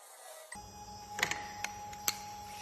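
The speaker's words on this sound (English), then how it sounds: "now I'm gonna use this plate and the Z probe function to go down" SmartBench CNC router lowering its Z axis onto a probe plate above a workpiece: a steady faint motor whine, broken by a few sharp ticks and clicks near the end.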